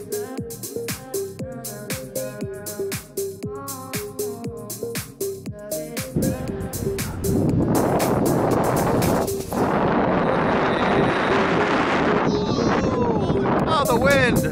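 Strong wind buffets the microphone on a golf course, building from gusty texture under a few voices into a loud, sustained roar that dominates the second half.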